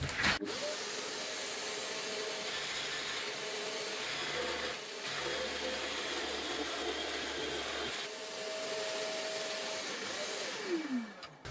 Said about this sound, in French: Et ensuite, on réalise encore une coupe avec cette fois-ci un aspirateur.